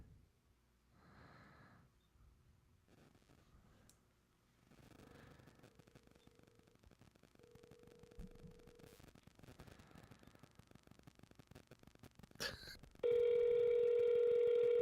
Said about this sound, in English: I'll phone call him now that I know he has a working phone.